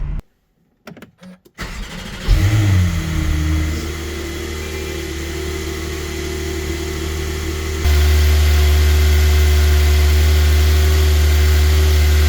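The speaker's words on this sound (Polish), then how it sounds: "to dźwięk silnika i układu wydechowego. 6-cylindrowy Boxer to nie jest kwintesencja doznań akustycznych" A turbocharged flat-six Porsche 911 Turbo S engine cranks and starts after a few clicks, then settles into a loud, steady, mechanical idle with exhaust note that steps up in level partway through, close by.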